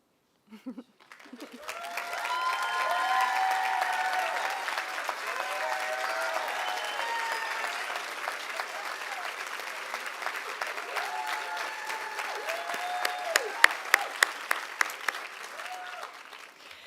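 Audience clapping for honor society inductees standing at a health sciences class day ceremony, a full sustained round that builds quickly and carries on with a few sharper claps near the end, with voices faintly underneath.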